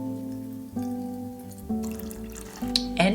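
Water, lemon juice and orange juice pour into a pan for a no-bake fruit jelly cheesecake topping, giving steady close trickling and dripping with a few louder splashes near the end.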